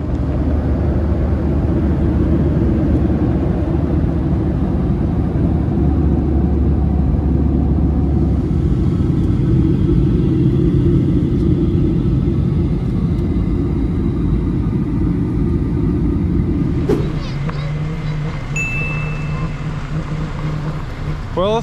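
Steady, loud low-pitched rumble and broadband roar of an airliner cabin in flight to Longyearbyen, Svalbard, continuous throughout with a slight shift in tone near the end and faint higher tones briefly appearing.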